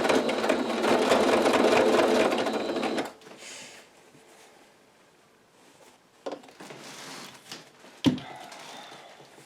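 A sewing machine runs steadily for about three seconds stitching a simple vintage-style apron, then stops, leaving quiet handling noise and a couple of sharp clicks.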